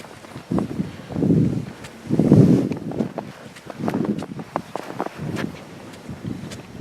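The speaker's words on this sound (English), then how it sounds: "Just want to see if you can hear that lovely crunching sound as we're walking along through the snow." Footsteps crunch through snow on a walk toward Low Fellside, a steady series of soft crunching steps close to the microphone, with gusts of wind buffeting between them.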